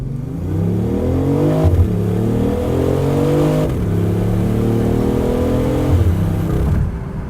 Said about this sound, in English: I love how the exhaust just kind of blips and pops a little bit every time you shift